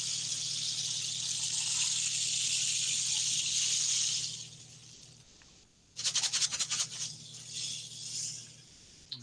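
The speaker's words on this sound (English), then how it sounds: "So what you're hearing is those pebbles hitting those cactus spikes." A handmade cactus rain stick filled with pebbles gives a long, steady hissing rattle of stones pattering over the spikes, fading out midway, then a burst of sharper, uneven rattling as it is tipped again.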